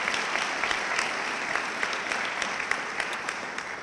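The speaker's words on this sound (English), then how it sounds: "And I think that deserves a round of applause for making us a better society." Steady, dense applause from an audience at an awards ceremony, a continuous wash of many hands clapping, moderately distant and even in level throughout.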